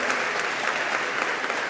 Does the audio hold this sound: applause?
yes